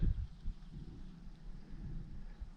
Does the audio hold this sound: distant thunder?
yes